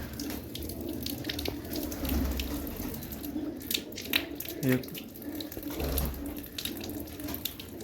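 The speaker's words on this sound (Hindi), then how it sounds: "पानी डाल के देखता हूँ, थोड़ा सा पानी चलाते हैं।" Water running from a tap, a steady splashing gush with gurgles and a few louder spurts, heard close with faint voices in the background.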